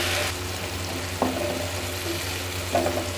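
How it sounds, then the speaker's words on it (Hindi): Tomatoes and green chilies fry in a pan, a close steady sizzle broken by a couple of distinct spoon stirs and scrapes. "अभी मैं इसमें टमाटर और हरी मिर्च डाल के इनको अच्छी तरह से मिक्स करूँगी।"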